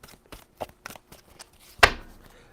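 A tarot deck being shuffled by hand: a few soft, separate riffles and taps of cards, then one sharp, louder shuffle burst near the end, close and with no talking.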